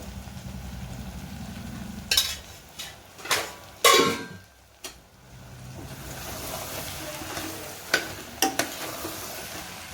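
Mutton offal curry frying in oil, about a kilo of it, hisses softly while a spoon scrapes and clanks against the pan in several sharp bursts, close by, with no speech.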